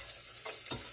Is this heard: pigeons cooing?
no